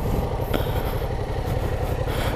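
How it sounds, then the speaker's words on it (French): A Yamaha XSR 700 motorcycle engine idles with a steady, close, even rumble, running alone throughout. "Voilà la bécane."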